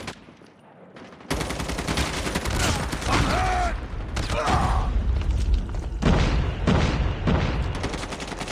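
Call of Duty game combat with a grenade blast and bursts of gunfire, loud and dense, continuous rapid shots and booming hits filling most of the clip after a brief quiet start.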